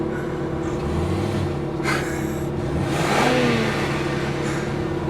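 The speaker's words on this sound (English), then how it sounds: "Revving his engine." A car engine revs up loudly nearby, its pitch rising over a steady road rumble, with no one speaking.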